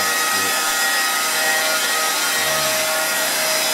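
A CNC router's spinning bit cuts into wood after ramping and spiraling down, a steady loud broadband whir and rasp that holds continuously without pauses.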